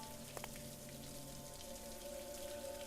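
Running water left on indoors, a faint, steady trickling flow with a low hum, quiet and constant throughout.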